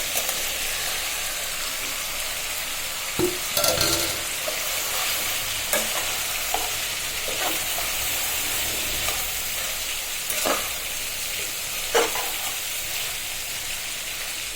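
Spice-coated okra sizzling steadily in a pan with fried onion, garlic, green chilli and shrimp, with a few sharper scrapes and clinks of stirring cutting through the continuous frying hiss.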